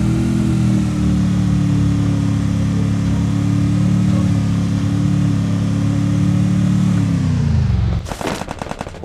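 Loud, droning motorcycle engine rumble in the video game Free Fire holds steady for several seconds, then cuts off into a burst of rapid crackling pops.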